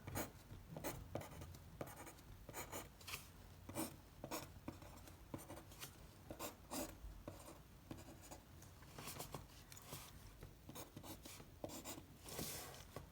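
A pen scratches and scribbles across paper while a combined-loading stress diagram is drawn, giving quiet, close, irregular strokes that run continuously without talk.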